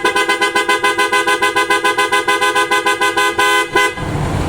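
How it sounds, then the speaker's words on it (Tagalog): PIAA Oto style car horn fitted to a Ford EcoSport, blasting a rapid series of loud, close staccato toots in a steady rhythm and then one longer held blare before cutting off. "So pakinggan natin ngayon mga boss yung tunog ng auto style horn."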